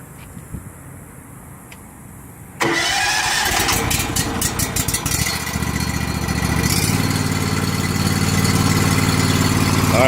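The engine of an 8.5 GPM, 3680 PSI Whisper Wash Classic pressure washer trailer cranks and catches after a quiet stretch. It then settles into a loud, steady idle that holds close up until the end.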